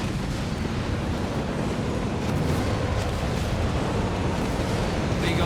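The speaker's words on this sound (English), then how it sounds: "Big old barrage there" A sustained artillery barrage in the WWII strategy game Company of Heroes 3, heard as a dense, continuous rumble of overlapping explosions that rolls on steadily throughout, loud and unbroken.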